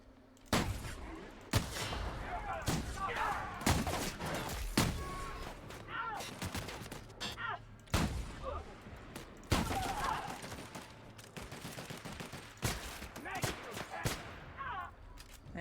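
Light machine gun fire in The Outer Worlds, heard as sharp repeated bursts of shots at irregular intervals across the whole stretch, loud and close, with rattling impacts between the volleys.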